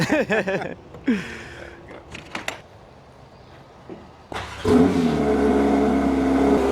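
A few short voices and sharp squeals come first, then a Porsche GT3 RS engine roars up loudly nearby and holds a strong, steady rev.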